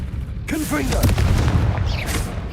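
Confringo spell explosion in Hogwarts Legacy: a deep, booming blast with crackling debris that follows a brief voiced spell cast, loud and close, over about two seconds.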